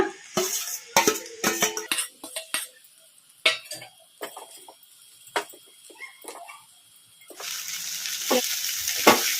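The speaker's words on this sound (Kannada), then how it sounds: "ಐ ಫ್ಲೇಮಲ್ಲಿ ಇಟ್ಕೊಂಡು ಫ್ರೈ ಮಾಡ್ಕೋಬೇಕು ರೈಸ್" Egg fried rice stir-fried on high flame, with sharp metallic scrapes and clinks of a spatula against the pan in quick bursts, followed by a louder, steady sizzle at the end.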